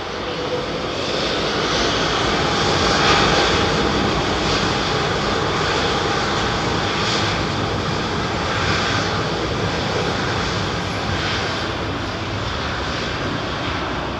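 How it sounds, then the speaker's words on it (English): An Airbus A380 departs London Heathrow, its four engines giving a loud, sustained jet roar that fills the air throughout, with a throbbing, rushing texture and a slight swell early on before it holds steady. "Going to get double 380 departures here, folks."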